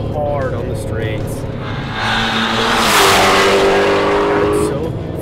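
A supercharged 850 hp Hennessey GT350R Mustang roars around a race track, its engine note climbing and swelling to a loud peak mid-clip, with a hint of tire squeal and voices talking over it.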